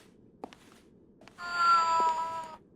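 A cat in the video game Fragile Dreams lets out a single drawn-out, tonal meow, clear and close, after a few faint clicks in an otherwise quiet scene.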